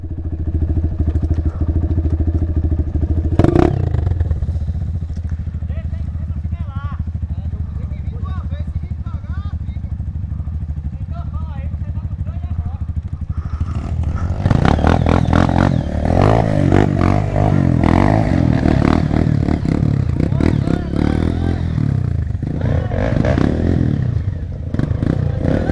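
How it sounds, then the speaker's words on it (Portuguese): Motorcycle ploughing through a deep muddy trail, its engine droning steadily and surging louder midway, with splashes and clattering bumps, heard up close under excited voices. "Sujar a moto, Naldo"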